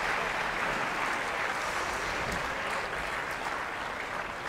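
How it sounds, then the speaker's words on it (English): Steady applause fills a tennis stadium during a women's quarterfinal match at Stanford, a dense even clapping from the crowd that holds at a constant level for the whole stretch with no voices over it. "Serena doing a Rafa, applauding Sharapova."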